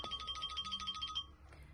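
Phone ringtone trilling in quick repeated electronic pulses for about a second, faint and somewhat distant, then cutting off into quiet room noise.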